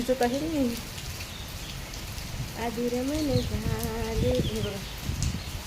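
Steady patter of rain fills the background while a person talks over it in a tonal, sing-song voice.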